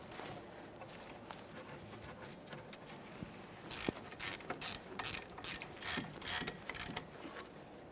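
A ratchet clicks in quick bursts while tightening a brake hose mounting bolt on a 2014-2019 Toyota Corolla, close and crisp, following quieter handling noises.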